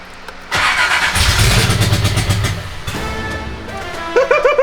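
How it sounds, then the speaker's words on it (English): A built Nissan 300ZX engine cranks and catches for the first time, loud and close, settling into a rough idle before a few sharp revs at the end. "I have a good feeling that this is gonna start."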